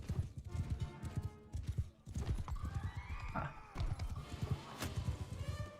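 Cavalry horses in the video game Bannerlord, with hooves clip-clopping in quick, uneven rhythm and a horse whinnying near the end, fairly close and moderately quiet.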